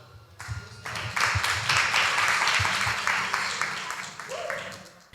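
A church congregation at a youth anniversary celebration breaks into broad applause that swells, holds for several seconds, then tapers, with voices talking over it.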